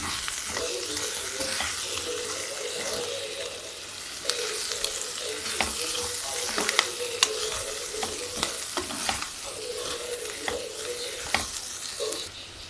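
Chili powder sizzles in hot oil in a pan for an okra and tomato curry, a constant close frying hiss broken by repeated scrapes and knocks of a spoon stirring.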